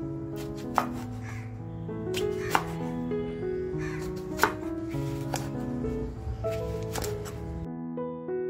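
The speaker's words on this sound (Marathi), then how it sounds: "वांगी जी घेतली आहेत ती सुद्धा अशी आपल्याला पाहिजे त्या आकारामध्ये कापून घ्यायची आहेत" A knife chops brinjal (eggplant) on a board in a kitchen, giving a few sharp, spaced chops over steady background music.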